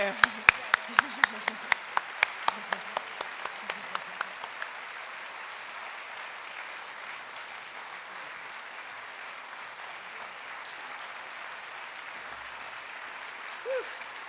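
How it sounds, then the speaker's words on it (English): Brief burst of audience applause at a ministry report event, a run of sharp claps fading out within a few seconds, followed by a quiet room with faint talk. "let's give her a big hand clap too"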